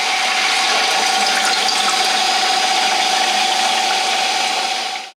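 A commercial ice machine runs with water flowing steadily over its freezing plate, a constant loud rushing wash with a faint mechanical hum underneath, continuous and alone before cutting off abruptly at the end.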